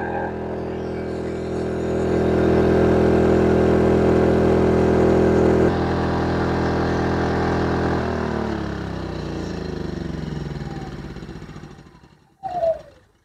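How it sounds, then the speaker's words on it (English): An EcoFlow dual fuel smart generator runs steadily on propane with a close, constant engine drone, shifts pitch partway through as the load changes, then winds down before a short clatter at the end. "a quick demo of how I charge my Delta Pro and the smart battery with the smart generator using propane"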